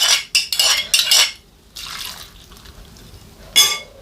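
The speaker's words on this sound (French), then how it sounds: "J'ajoute maintenant à mes concombres 2 cuillerées à soupe de vinaigre blanc à 6 degrés" White vinegar mixed with sugar is spooned over cucumbers, a few short close pouring splashes and clinks in quick succession, then a brief second burst after a pause, with no talking.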